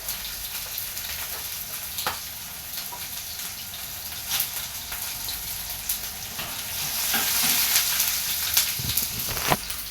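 A curry of raw banana, tomato and fresh prawns sizzles and fries in a pan, a steady bright crackling hiss with occasional sharper pops and a slight rise in intensity toward the end.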